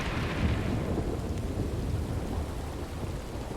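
Steady rain with rumbling thunder throughout a Wild West roleplay video game, a continuous dense wash of rainfall under low rolling thunder, no voices.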